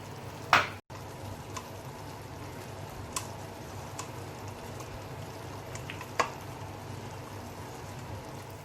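Olives and pasta being stirred into red and white sauce in a pan, a soft steady sizzle with occasional clicks and scrapes of the spoon against the pan, no talking.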